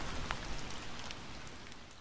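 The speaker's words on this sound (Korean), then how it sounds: "빗방울이 그 위에 떨어지는 소리구나" Raindrops falling on a surface, a steady soft patter of many fine drops with occasional brighter ticks, even and continuous, fairly faint and without voices.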